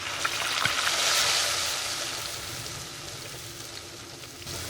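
Tomato and onion paste fries in a pan of hot oil with cumin seeds for a red lobia (rajma) curry, giving a steady, moderate hissing sizzle that swells slightly early on and then settles, with no talking.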